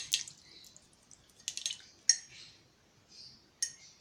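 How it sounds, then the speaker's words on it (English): A paint brush being rinsed in a water cup while painting a honeybee on a shoe gives off soft splashes and a few bright clinks against the container. The sounds are close, quiet and intermittent, with brief pauses between taps. "Let's rinse our brush out again in that case."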